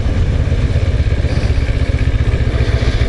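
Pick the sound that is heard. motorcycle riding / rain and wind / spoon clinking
motorcycle riding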